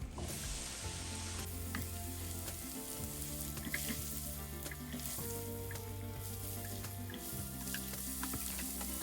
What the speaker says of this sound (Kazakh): Қызанақтарды да кубик шай етіп, барлығын турап, оларды да қосып қуыратын боламыз.